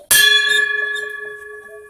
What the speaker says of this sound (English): That was a real bell.